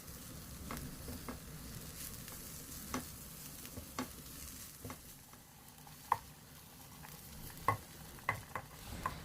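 Carrots and beetroot for borscht fry in a pan with a soft, steady sizzle. Scattered stirring clicks and taps recur throughout, fairly quiet and close, with no talking.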